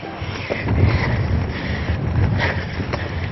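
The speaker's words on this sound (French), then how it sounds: "Le vent souffle, les grains menacent." Gusty coastal wind on the Île de Bréhat buffets a microphone with a low, steady rumble and roaring swells, no voices present.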